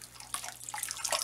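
Dyed yarn is lifted with tongs out of hot dye water, a brief wet splashing and trickling of liquid running off the yarn, close and fairly quiet.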